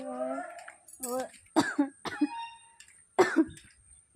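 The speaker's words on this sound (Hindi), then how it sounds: "खांसी मतलब बहुत ही ज़्यादा हो गया है" A woman suffering from a cough and fever coughs repeatedly in short, harsh bursts up close, mixed with brief bits of her speech.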